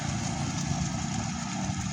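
A motorcycle engine running on a concreted farm road in the countryside, a steady, fairly loud drone that holds unbroken from start to finish with no voices over it.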